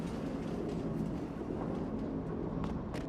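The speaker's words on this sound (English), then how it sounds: "Train going by." A train rolls past in Farming Simulator 22 on the Angel Mountain map near a refinery, a steady, continuous rumble with faint rail clatter holding evenly throughout, with no voices over it.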